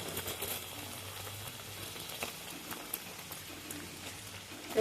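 Chhatu puri, a flour puri stuffed with sattu, frying in hot oil, giving a steady close sizzle and bubbling crackle that runs continuously with small pops and no talk.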